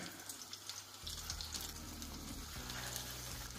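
Flour- and egg-coated meatballs frying in hot oil, a steady close sizzle that grows fuller as more meatballs drop into the pan, with no talking.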